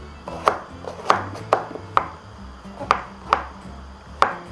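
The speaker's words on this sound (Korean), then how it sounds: "버섯도 큐브 형태로 썰어주도록 하겠습니다" A knife chops mushrooms into cubes on a cutting board, about eight crisp, evenly spaced taps with a faint background hum.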